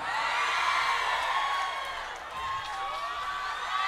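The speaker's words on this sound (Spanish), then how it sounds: "El aplauso fuerte, por favor." A crowd at a live norteño music event cheers, whoops and applauds steadily throughout, with high shouts and whistles rising over a continuous wash of clapping.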